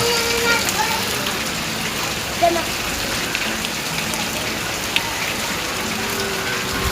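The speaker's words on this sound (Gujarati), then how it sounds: "જોયા તો કેવો વરસાદ પડ્યો" Steady heavy rain hisses down across a surface, with occasional louder drops standing out from the constant downpour.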